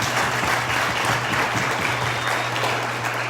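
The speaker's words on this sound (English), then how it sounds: "I just wanted to give a second round of applause to people like Thomas Davis" An audience at a discussion event breaks into a full round of applause, with many hands clapping in a thick, continuous wash and a low steady hum underneath.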